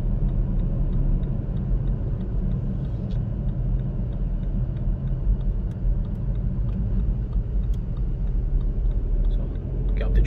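A BMW 118i engine pulls steadily up through the gears onto a dual carriageway slip road, a continuous low rumble heard from inside the car with a faint ticking on top.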